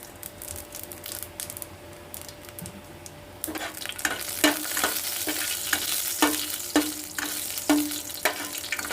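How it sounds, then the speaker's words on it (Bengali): Dried red chilli and five-spice seeds frying in white oil in a wok: faint at first, then a louder sizzle with rhythmic spatula scrapes and clicks, close by and without speech. "ফোড়নটা একটু ভাজা হতে থাকুক"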